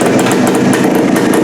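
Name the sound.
1974 Suzuki TC 185 motorcycle engine firing up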